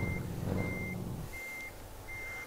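A Scania 143M truck in Euro Truck Simulator 2 with a sound mod sounds its reversing alarm, four evenly spaced beeps over a low engine rumble that fades partway through.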